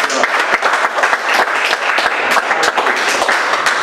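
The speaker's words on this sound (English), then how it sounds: "Give the Lord a hand clap this morning." A church congregation at a Sunday service claps their hands, loud irregular claps mingling into a lively round of applause from many people throughout.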